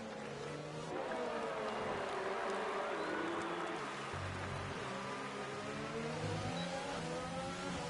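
Whining engines of F1 race cars battling closely in a racing video game set at a Vietnam circuit, pitch rising and falling through gear changes, steady and moderately distant, with no talk.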